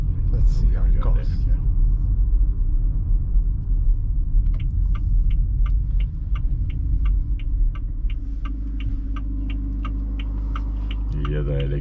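A 2023 Haval Jolion 1.5 hybrid drives in sport mode, with a steady low cabin rumble and a crisp indicator ticking in even beats through the middle.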